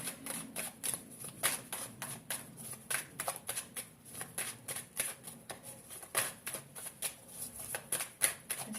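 Tarot cards shuffled by hand, a steady run of close, soft riffling and flicking snaps with quiet pauses between, no talking.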